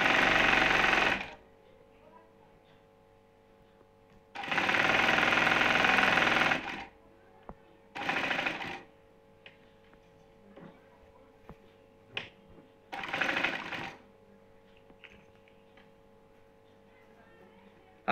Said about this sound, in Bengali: দেখেন আমরা প্রথম ফিতে সেলাই করছি